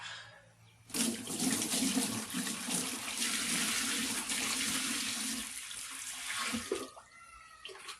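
Rainwater pours steadily onto cocoa peat in a container for a worm farm, making a close, continuous splashing gush for about six seconds, then tapering off to a few trickles and drips.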